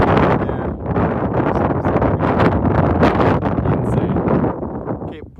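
Loud, gusty wind on Table Mountain batters the microphone in heavy rumbling bursts, with a voice faintly audible beneath it.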